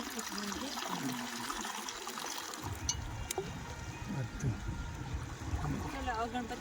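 Water poured from a metal pot over a Ganpati idol during a home visarjan, a soft continuous trickle and splash close by, mixed with voices talking and chanting throughout.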